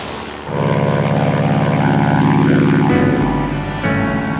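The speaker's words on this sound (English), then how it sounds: "Flying the air tractor allows Brian Johnson to do the kind of flying airline captains can only dream about" Air Tractor fire bomber aircraft with a propeller engine, a steady loud droning roar that swells in and holds close throughout, with a shift in pitch near the end and no talk.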